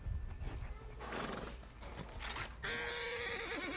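A horse in Red Dead Redemption 2 gives a loud whinny and snorts, with clip-clopping hooves underneath, fairly close and clear over quiet game ambience.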